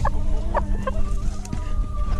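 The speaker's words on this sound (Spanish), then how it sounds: "este es el otro gallo que tengo" A Japanese rooster clucks in a few short, close bursts over steady low farmyard background noise, with no voices.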